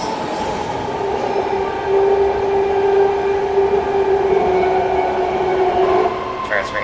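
BART train running, a steady rumbling roar of a rapid transit car in motion with a sustained tonal hum, loud and close, without speech.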